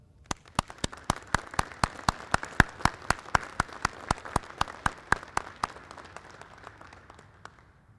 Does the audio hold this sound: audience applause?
yes